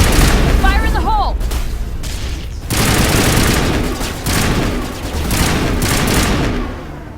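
Combat in Mass Effect Legendary Edition: a grenade blast booms amid sustained rapid gunfire and rumbling explosions, loud and near, with voices calling out over the fighting.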